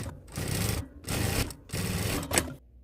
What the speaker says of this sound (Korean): 이제 니트 노루발 이용해서 다시 한번 박음질